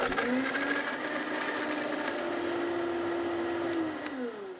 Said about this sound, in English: All right, so blending it till it's smooth.